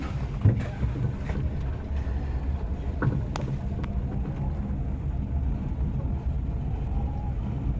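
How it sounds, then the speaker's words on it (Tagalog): Strong wind rushing past a cable car high above Ocean Park, a steady broadband roar with low buffeting gusts on the microphone, continuous throughout with faint occasional knocks and no clear talk. "Yung hangin. Grabe, lakas no?"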